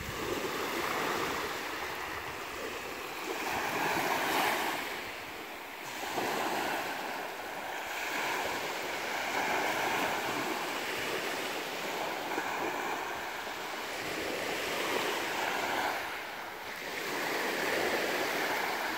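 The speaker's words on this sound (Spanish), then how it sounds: "Cielo, nubes y mar, playa." Ocean waves wash onto a beach in slow surges, a broad rushing hiss swelling and fading every few seconds, heard from nearby with a little wind and no voices.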